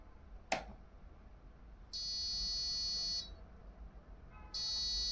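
An Arduino-driven buzzer at loudness setting 4 gives a sharp click, then two steady high-pitched electronic tones: one sustained for over a second and a second starting near the end, moderately loud over faint room hiss.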